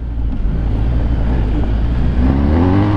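A BMW R 1250 GS HP motorcycle rides off-road over large stones, its boxer engine giving a steady, loud, close drone with a low rumble throughout and no talk.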